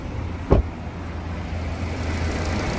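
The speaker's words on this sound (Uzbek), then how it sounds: "Benzinga tiniq ishlab boshladi mana. Hech qanaqa vibratsiyasi ishlayapti motor." A car engine runs on petrol after being switched over from propane, a steady low idle hum close by, with a single short knock near the start and no talk.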